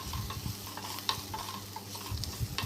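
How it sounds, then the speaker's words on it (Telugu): Onions, green chillies and curry leaves fry in a pan for a brinjal tomato gravy curry, a steady sizzle with a spoon scraping and stirring in uneven strokes. "ఇలా కరివేపాకును కూడా వేసేసి బాగా అయితే కలుపుకోవాలి"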